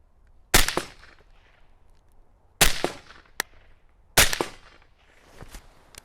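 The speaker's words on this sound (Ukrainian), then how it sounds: "Постріл!" Three sharp, loud CZ BREN 2 rifle gunshots crack at intervals of about two seconds, each with a short ringing echo fading out.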